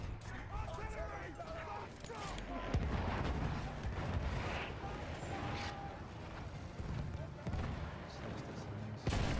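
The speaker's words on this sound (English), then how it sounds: "Enemy coordinates have been sent to the artillery." Artillery fire in the Battlefield 1 video game, a dense wash of booming blasts and battlefield noise that fills the whole stretch at steady loudness, with faint speech mixed in.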